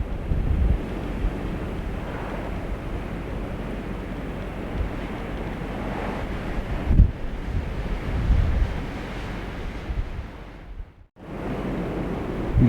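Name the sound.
strong wind gust in the foothills during wildfire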